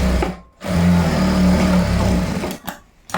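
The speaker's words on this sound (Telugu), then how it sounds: "ఈ మిషన్ పాదం అంటే ఈ తలకాయ పాదం ఎంతవరకు ఉందో అంతవరకు కుట్టు అయితే వేసేసుకోవాలి" An electric sewing machine runs steadily while stitching tucks into boys' school uniform shorts, a close, loud whirring hum that stops briefly, resumes, then cuts off near the end.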